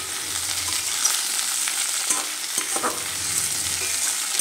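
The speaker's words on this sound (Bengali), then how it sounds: "তো এই সবজিগুলোকে প্রথমে আমি তেলের মধ্যে দিয়ে একটু ভাজা ভাজা করে নেব" Vegetables sizzle steadily in hot oil in a pan, with stirring scrapes and crackles, as a vegetarian cabbage chorchori with mustard paste gets underway; the frying is close and continuous, with no talk.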